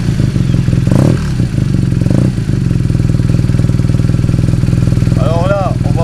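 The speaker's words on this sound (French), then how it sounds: "forcément on va vous faire écouter cet Akrapovic" A 2016 BMW R nineT motorcycle fitted with an Akrapovic exhaust idles loudly up close, a deep, lumpy, rapidly pulsing boxer-twin throb with a couple of brief revs; someone talks over it.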